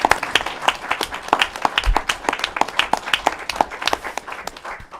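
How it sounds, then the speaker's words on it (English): Sustained crowd applause at a governor's COVID-19 event in New York City, brisk rapid clapping from a mid-sized audience, steady and fairly loud throughout. "Let's give them a round of applause."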